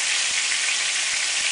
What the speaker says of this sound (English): So I have it in the dish with the other batch frying in the pan.